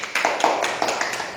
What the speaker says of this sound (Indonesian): Tepuk tangan untuk kelompok 2 yang sudah memperhatikan dia.